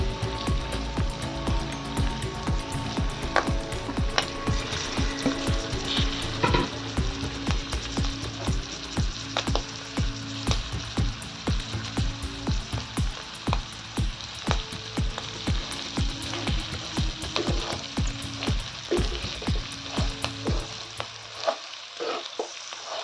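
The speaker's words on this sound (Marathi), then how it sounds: "यात टाकूया आपण आता घेतलेल्या शेवड्या. त्याला छान भाजून घ्यायचे." Spiny lobsters fry and sizzle steadily in a pan, with frequent stirring scrapes and clatter, loud and continuous for about twenty seconds before cutting to near silence at the end.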